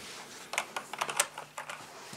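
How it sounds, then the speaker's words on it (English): Typing on a VicTsing anti-ghosting mechanical gaming keyboard, a quick uneven run of close, clunky key clicks over a quiet background. "Now it has a clunky sound to it, which is what a mechanical keyboard is all about."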